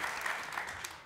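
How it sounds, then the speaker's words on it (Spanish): A TV talk show studio audience gives a short burst of applause, dense and fairly soft, lasting about a second. "Un aplauso para Chaparrito."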